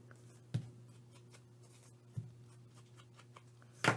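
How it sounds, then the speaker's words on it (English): Pen strokes run along the edges of yellow and blue botanical paper ephemera, soft scratchy rubbing against a low steady hum, with three sharper taps or contacts standing out near the start, middle and end. "Let's go ahead and ink this just while we're here really well."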